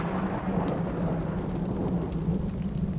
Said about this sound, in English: It's raining cats and dogs.